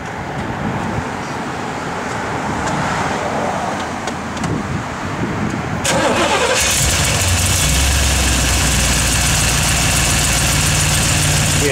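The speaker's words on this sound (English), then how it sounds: "just good running small block" A 1973 Chevrolet Corvette small-block V8 cranks and fires, then settles into a loud, steady, rumbling idle close by, following a stretch of broadband outdoor noise.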